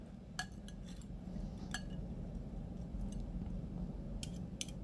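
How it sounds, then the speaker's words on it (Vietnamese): Seasoned eggplant being mixed with utensils in a bowl, a few scattered light clinks and scrapes of metal against the dish over a quiet background, close and without talk. "Rồi chúng ta trộn đều lên."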